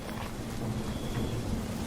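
Heavy rain pours in a steady, dense roar with low rumbling thunder beneath it, a fierce Kalbaishakhi (nor'wester) storm at night in an animated ghost story, with no talking.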